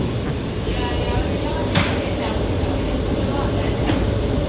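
Steady low rumble and rattling inside a New York City subway R179 car on the A express train running from Inwood–207 St toward 125 St, with a couple of brief sharp metallic clanks over the constant roar.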